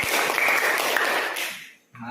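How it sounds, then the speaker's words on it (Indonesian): A classroom of students claps for a student group, giving a dense burst of close applause that fades out near the end. "Ya, beri tepuk tangan untuk kelompok Goret."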